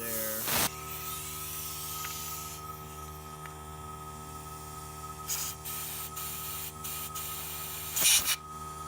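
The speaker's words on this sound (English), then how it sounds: "We got some compressed air here." Compressed air blows through the carburetor jets of a Honda VTX 1300 motorcycle in short sharp hissing bursts against a faint steady background hum, close and without talking.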